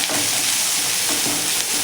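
Ginger, garlic and green chili paste sautéing in a pan for veg cheese cutlets, a steady close sizzle with faint stirring scrapes, no talking.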